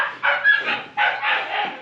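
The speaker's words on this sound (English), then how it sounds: "let the little one, she'll bark for a while and stuff" A small dog on a snowy homestead barks in two bursts of short, sharp yaps, fairly close and loud, with chickens and pigs kept nearby.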